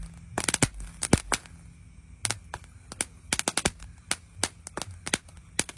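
A mini cake firework, aimed downward at night, fires a rapid irregular string of sharp cracking pops, some clustered in quick bursts and others spaced apart, loud against a quiet background.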